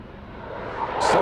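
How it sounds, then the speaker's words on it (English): A Eurofighter Typhoon jet at an airshow, swelling from a steady broadband roar into a louder, harsher rush as it accelerates away after a slow gear-down pass. "Eurofighter Typhoon"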